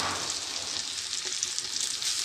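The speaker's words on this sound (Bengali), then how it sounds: "পেঁয়াজ প্রায় ভাজা হয়ে আসছে।" Onions sizzle in hot oil with garlic paste as a base for a tangra fish curry, a continuous close frying crackle with no talking.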